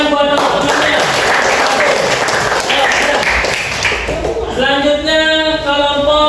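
A classroom of students claps for their classmates: a loud, dense burst of applause lasting about four seconds, followed by voices.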